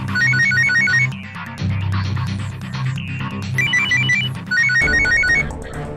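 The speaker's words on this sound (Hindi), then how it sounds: "फोन फ्रीजर में बज रहे हैं।" Several phones ring at once, their muffled trilling ringtones repeating in short bursts that overlap, with a low hum beneath them.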